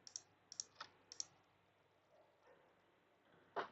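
Keyboard shortcut keys are pressed in short clusters of crisp clicks, a few taps in quick succession repeated about three times, then a louder single click near the end. The sounds are close and quiet with no talk.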